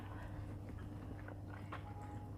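Chewing food, close to a microphone, with soft repeated mouth sounds set low in a steady background hum, no voices.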